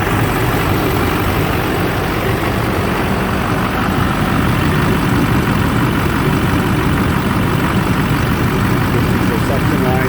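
A 2004 GM 2500HD pickup with a 6.6 Duramax diesel engine that cranks but struggles to start runs at low speed, its heavy, rough rumble steady and loud throughout the stretch.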